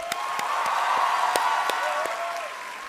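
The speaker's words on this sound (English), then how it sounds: "a big round of applause to all of you" An audience at a motivational speech event gives a steady round of applause, with a few sharp individual claps standing out above the crowd.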